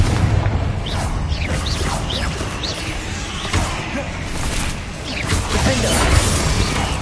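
Bombarda and Confringo spell blasts burst repeatedly during Hogwarts Legacy combat, a dense run of booms and crashes with sharp swooshing spell casts over busy game noise.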